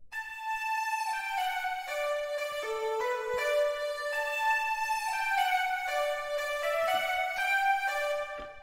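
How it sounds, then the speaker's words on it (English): An FL Studio synth lead plays through only a long reverb send, giving a smeared, washy melody of sustained tones that blur into one another, steady in level and with no other instruments or voices. "turn off the short and only listen to the long reverb, it sounds like this"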